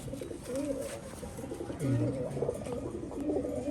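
A pigeon from a paired breeding couple coos close by, with a few low throaty rolling calls rising over a steady background murmur of birds.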